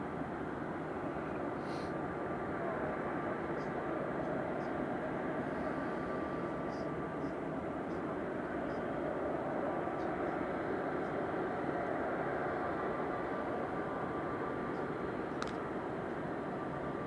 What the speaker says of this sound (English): Heading off to Alicante with flight 9073. This is a 737 MAX 8200 EIIJD.